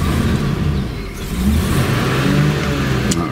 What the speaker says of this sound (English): there you can hear that V8 comes to life, runs nice and smooth